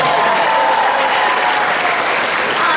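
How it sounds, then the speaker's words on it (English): Loud, sustained applause from a large convention panel audience at San Diego Comic-Con, a dense unbroken clatter of many hands filling the hall throughout. "Give yourselves a big round of applause."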